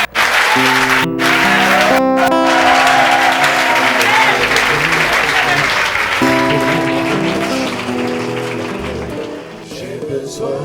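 A church congregation at a summer conference applauds and cheers loudly in a sustained wash of clapping, with sustained music chords underneath and the applause fading slightly toward the end.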